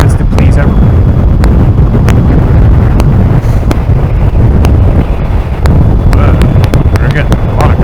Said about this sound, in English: We're getting a lot of crosswind here.